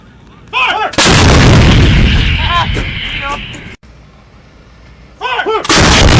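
An M777 155mm light towed howitzer fires twice outdoors, each shot a very loud, deep blast with a long rumbling tail. Shouted voices are heard before and between the shots.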